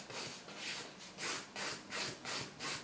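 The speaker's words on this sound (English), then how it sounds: "I'm still using my 150 grit file around my cuticle area" A 150 grit nail file rasps back and forth over an acrylic nail near the cuticle, giving about seven close, steady scratchy strokes in a regular rhythm with no talking.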